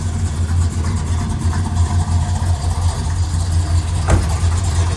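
A 1972 Oldsmobile Cutlass S with a Rocket 455 V8 and three-speed automatic idles steadily with a deep, loping rumble, close and loud, with one short sharp knock near the end.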